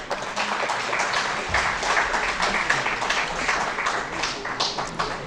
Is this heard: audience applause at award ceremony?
yes